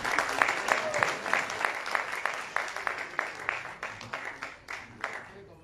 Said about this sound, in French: Est-ce qu'on peut encore applaudir pour eux?